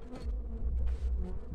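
Steady, dense buzzing of honey bees in a hive during February, close and continuous with a low droning hum throughout.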